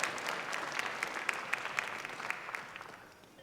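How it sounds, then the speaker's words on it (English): Applause from an audience at a university AI hackathon event, a steady patter of many hands clapping, fairly faint and fading slightly toward the end. "So please give them a round of applause."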